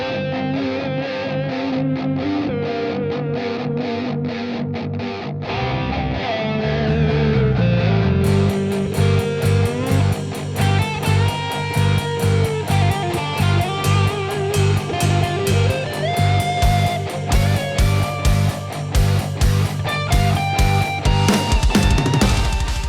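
A heavily distorted electric guitar plays a lead line, its tone swept by an automated wah plugin, over a dense mix with rhythmic chugging backing and no voices.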